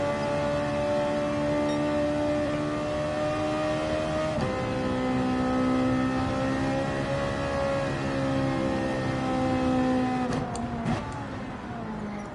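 A race car engine in Gran Turismo 7 holds high revs, a loud, sustained tonal whine that shifts pitch slightly as the car changes gear and speed, with brief clunks near the end.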